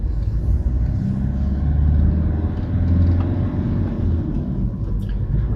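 Mark 5 Escort LX turbodiesel car pulling up at the roadside, a loud steady low diesel engine drone and road rumble heard from inside the cabin, with no speech.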